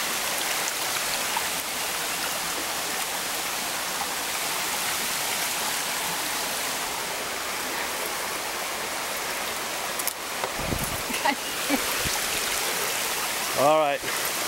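Steady rushing of a stream near a waterfall in Kalihi Valley, Hawaii, a broad continuous wash of water heard up close. A few brief footstep and rustle sounds come near the end, along with a short voice.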